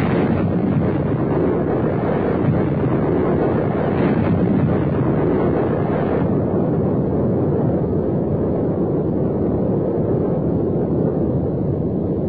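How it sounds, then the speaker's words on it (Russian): Nuclear explosion from an R-14U medium-range missile test, a continuous loud broadband roar and rumble sustained for the whole stretch, heavy and unbroken like a massive blast wave, with no speech. "До взрыва осталось 5 секунд."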